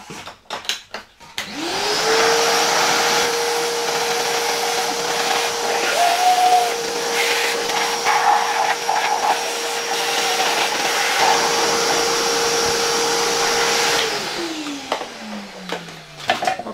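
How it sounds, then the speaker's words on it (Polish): A vacuum cleaner switched to blowing mode blasts dirt out of a Soviet Kama-5 water pump, starting abruptly, holding a loud steady whine and hiss for about twelve seconds, then winding down with a falling tone; no talk. "Włączę jeszcze tutaj zamiast zasysania nadmuch w odkurzaczu, spróbujemy wydmuchać części tego brudu."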